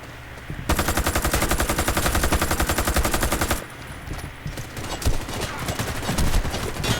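Rifle fire in the Warface shooter game: a sustained, evenly spaced automatic burst of close, loud shots lasting about three seconds, followed by scattered shots and sporadic gunfire with ambient game noise.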